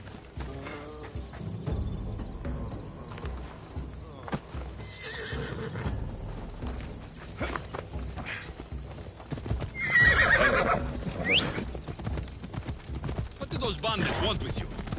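Horse hooves clip-clop steadily across ground in a video game while a horse neighs loudly, with creaking tack and game ambience filling the background.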